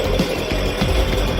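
Harsh, continuous buzzing power tool, a drill or chainsaw cutting into a giant box, with rapid rhythmic chattering pulses; loud and close throughout.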